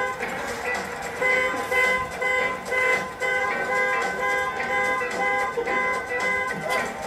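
A car horn honks repeatedly in a played recording, sounding as a would-be break-in is attempted on the car. Loud, close blaring bursts pulse on and off in an uneven rhythm throughout.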